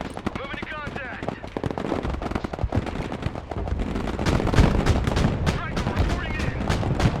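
Gunfire rattles across a snowy battlefield in the video game Broken Arrow, with sharp repeated shots and heavier booming blasts that grow denser later, while a radio voice speaks over the fighting.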